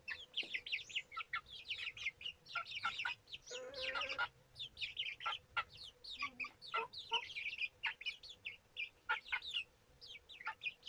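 Chicks peep rapidly and cluck softly, close by and fairly quiet, in a busy, overlapping stream of short calls with brief pauses.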